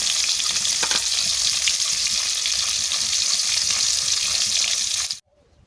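Food sizzles loudly and steadily in a pan, with scraping stirs now and then, before the sound cuts off abruptly at the end.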